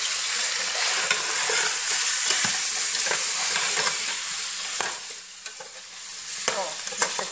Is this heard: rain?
no